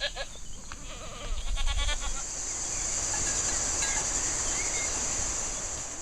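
Goats bleat near a farm in the Sisteron–Buëch countryside: a few wavering cries at the start over a steady outdoor hiss, then a faint background wash with a bleat or two.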